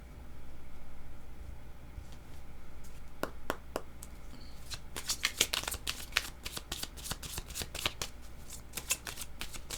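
Tarot cards are shuffled close up, starting with a soft rustle and then breaking into a quick run of crisp riffling snaps that grow denser toward the end.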